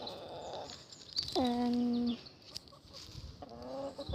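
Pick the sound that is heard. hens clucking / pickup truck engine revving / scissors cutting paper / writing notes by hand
hens clucking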